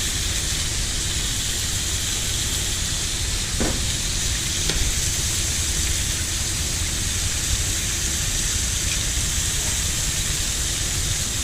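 An egg frying on a hot plate beside bacon for an Aussie burger, a steady loud hiss and sizzle that stays constant throughout with no talk.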